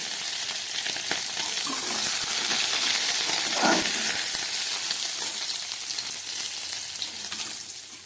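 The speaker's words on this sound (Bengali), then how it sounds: "মাছগুলো নেড়ে চেড়ে ভেজে নিলাম," Small puti fish fry in hot oil with a steady, bright sizzle and crackle, stirred now and then, close and continuous with no talking.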